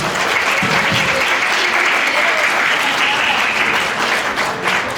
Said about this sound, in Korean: 진심을 담은 사랑해주신 아버님께도 감사의 박수 부탁드리겠습니다